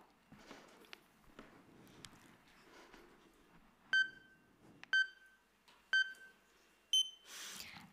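Three identical short electronic starting beeps sound at even one-second intervals, followed by a fourth higher-pitched beep that signals the timer start, with faint rustling and footsteps in between.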